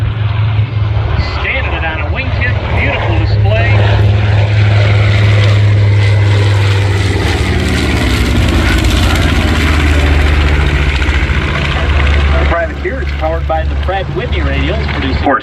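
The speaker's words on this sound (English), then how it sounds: "Beautiful view of the B-17 coming show center." A B-17 Flying Fortress warbird passing show center at the Spirit of St. Louis Airport air show in 2022, its piston engines and propellers droning loudly and steadily throughout, with an announcer talking over it.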